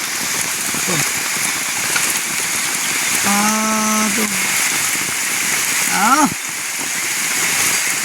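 Heavy rain pours down in a forest in a constant dense hiss, with a few brief tonal chirps briefly rising over the downpour.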